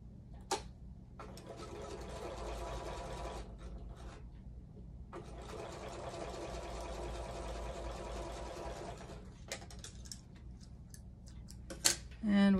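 A quilting sewing machine that is nearly out of bobbin thread runs in two long, steady bursts of rapid ticking stitches, with short pauses and a few clicks between them.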